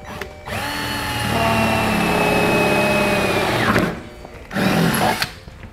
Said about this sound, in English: Drill a pilot hole first.